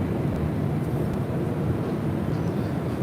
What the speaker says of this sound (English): WestJet Flight 1511 heading to Calgary in a 737-800.